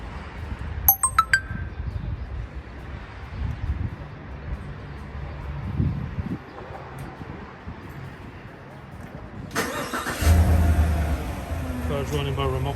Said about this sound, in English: Car's running by remote control.